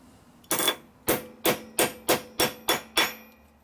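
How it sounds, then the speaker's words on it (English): A metal washer is struck with a hammer on old vice jaws, eight sharp ringing blows, close and loud, quickening into an even rhythm after a short pause. "First thing I'm going to do is beat on this washer a little bit over here."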